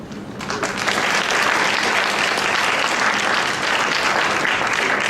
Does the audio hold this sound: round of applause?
yes